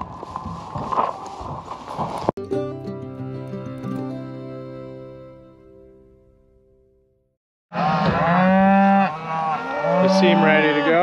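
A herd of cattle being driven home on a snowy morning, with one loud drawn-out moo followed later by more bellowing cows, close and clear.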